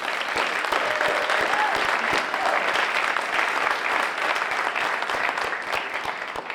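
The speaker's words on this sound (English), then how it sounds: "Can we give them another round of applause?" A large audience gives a loud, dense round of applause for Santa Clara University students, with steady clapping filling the hall for several seconds.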